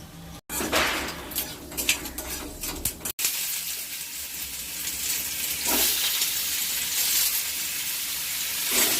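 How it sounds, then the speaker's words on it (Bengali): Whole spices with dried red chillies and five-spice sizzle steadily in hot oil for raw mango chutney, a continuous bright crackle with a few utensil knocks early on, close and moderately loud with no talk. "ফোড়নটা ভেজে নেব"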